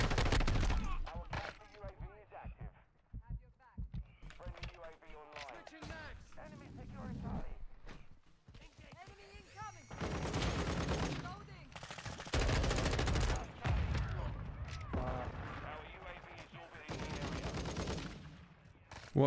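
Gunfire in the video game Modern Warfare 2, with bursts of shots cutting in and out over players' chatter, getting denser and louder in the second half.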